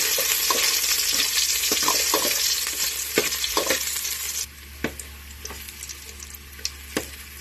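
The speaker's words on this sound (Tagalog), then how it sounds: "gigisahin na natin ang sibuyas, bawang. Ayan, kunting mantika lang. Sunod ang ating bawang." Onion and garlic sautéing in a little oil, a loud close sizzle that drops partway to a quieter bubbling, punctuated by sharp clacks of a utensil scraping and stirring the pan.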